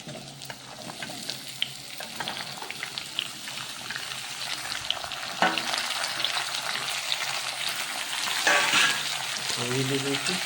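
Vegetables and onions sizzle in a hot pan, with a steady frying hiss joined by scraping stirring strokes and a few louder clinks and bursts as the food is tossed.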